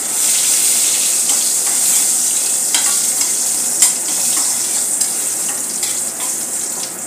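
Bay leaf, cardamom, cinnamon and asafoetida sauté in hot oil for red chana gravy, producing a loud, continuous close sizzle with occasional stirring scrapes and crackles throughout.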